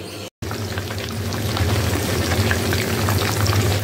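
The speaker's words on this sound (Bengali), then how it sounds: "চিকেন ফ্রাইগুলো ভেজে নিচ্ছি" Chicken pieces coated in cornflour, flour and egg deep-frying in hot oil, a steady dense crackle and bubble close up that runs on continuously after a brief cut at the start.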